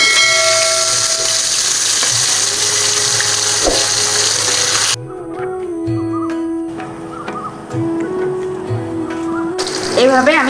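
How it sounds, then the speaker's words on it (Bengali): Tilapia pieces go into hot oil sprinkled with a little salt, raising a loud, dense sizzle that abruptly drops to a quieter crackling bubble halfway through, with faint tonal background sounds. "তেলের মধ্যে মাছ দিয়ে দিচ্ছি ভাজা।"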